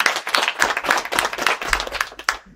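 A group at a university summer school claps in a short, uneven burst of close handclaps with irregular rhythm, loud and without talk over it.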